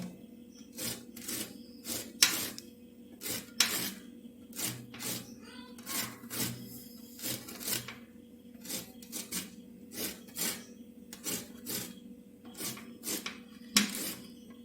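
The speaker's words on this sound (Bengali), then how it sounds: "এইভাবে আমি কেচে নিচ্ছি লেবুর যে উপরে আস্তরণটা আছে ছালটাকে আমি হালকা হালকাভাবে ছিলে নেবো" A gondhoraj lemon is rubbed against a grater, a series of short rasping scrapes in a steady back-and-forth rhythm, close and fairly quiet.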